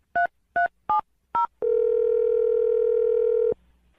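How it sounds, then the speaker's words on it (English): Four short telephone keypad tones beep in quick succession, followed by a steady, sustained dial tone lasting a couple of seconds. "I'm dialing the phone number now."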